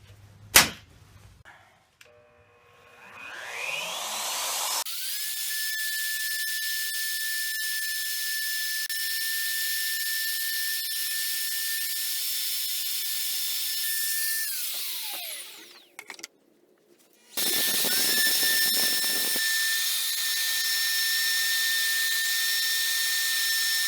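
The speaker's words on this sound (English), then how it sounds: "On my router, I'm using a 60-degree straight bit. A 60-degree V-groove bit." A wood router fitted with a 60-degree V-groove bit spins up to a steady high whine, carves lettering freehand into a wooden sign, winds down, then starts again and runs loud and close with no talking.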